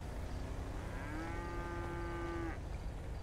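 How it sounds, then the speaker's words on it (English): A cow named Daisy mooing in a GTA roleplay video game: one drawn-out low moo of about a second and a half, clear and close over a constant noisy background. "Why are cows so goddamn stupid?"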